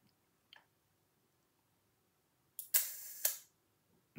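Rolleiflex twin-lens camera shutter released: a faint tick, a pause, then a sharp close mechanical click and whirring snap about three seconds in, followed by a second click, quiet otherwise.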